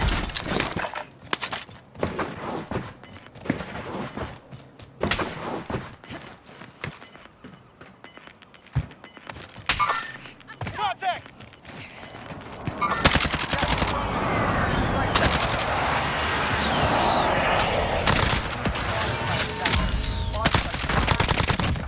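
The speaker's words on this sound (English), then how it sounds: "Taking shots here." Gunfire in Call of Duty: Modern Warfare comes in rapid automatic bursts and single shots, sparse at first and then dense and continuous, with occasional impacts and a voice speaking briefly.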